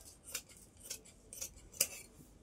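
Fabric shears cut through cloth in four crisp, separate snips spaced about half a second apart. They sound close, fairly quiet, and have no talking over them.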